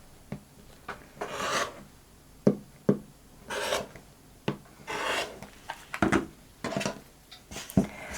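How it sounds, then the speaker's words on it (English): Sewn crumb-quilt fabric strips being cut apart, with a run of short rasping, rubbing strokes and sharp snips close by, irregular and fairly quiet, no talking. "Here's another strip complete. And we will just cut those apart."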